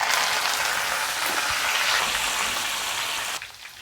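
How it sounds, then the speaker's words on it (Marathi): Fresh mint leaves hit hot oil in a pan for a crispy chivda snack, giving a loud, steady broadband sizzle that holds for several seconds, then drops abruptly to a softer fry near the end. "ही 1 वाटी पुदिना आहे, तेलात टाकते"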